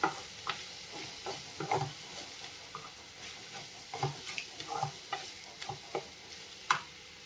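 Guava chutney ingredients with tamarind sizzle quietly in a pan with intermittent scraping and stirring clicks from a utensil, a steady soft frying hiss underneath.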